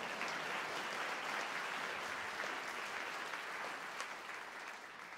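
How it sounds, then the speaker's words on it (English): Graduation ceremony audience in a university hall applauding a candidate, a continuous, even patter of many hands heard quietly and from a distance, with no speech rising above it. "yes, applause, go ahead."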